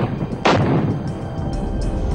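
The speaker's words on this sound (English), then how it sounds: "bombardment continued." Artillery bombardment in a mountain war setting, a single heavy boom that rolls out into a long, loud rumble over a constant low roar.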